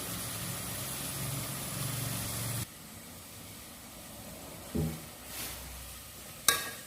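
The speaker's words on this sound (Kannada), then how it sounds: "ಉಳ್ಳಾಗಡ್ಡಿ ಟಮಾಟಿ ಎಲ್ಲ ಫ್ರೈ ಆಗಬೇಕು ಚಲೋ ತಂಗ" Onions and tomatoes fry in a pan for chicken biryani, giving a soft, steady sizzling hiss that suddenly drops off partway through, followed by a few faint clinks and scrapes.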